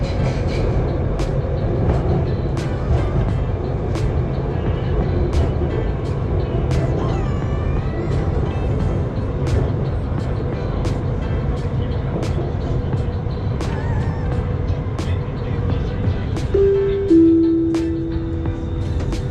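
A Bangkok MRT metro train rumbles steadily along the track near Lat Phrao station with rhythmic clicks and a brief high squeal near the end, loud and continuous throughout.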